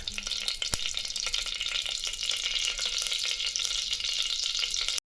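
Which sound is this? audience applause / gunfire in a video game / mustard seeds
mustard seeds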